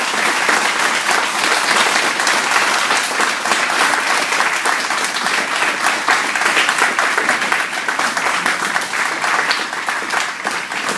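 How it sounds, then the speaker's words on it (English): A crowd applauds loudly and steadily, with dense clapping that keeps going without a break. "Round of applause."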